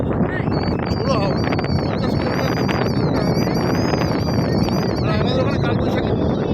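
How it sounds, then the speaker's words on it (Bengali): Strong stormy wind at Mandermoni sea beach buffets the microphone in a loud, continuous roar with gusting surges, under steady talk. "আমাদের ওখানে জাস্ট একটা সিম্পল কালবৈশাখী হলে যেরকম হাওয়া দেয় সেরকম হাওয়া দেয়।"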